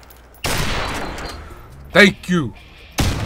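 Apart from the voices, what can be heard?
gunfire from a sniper shooter video game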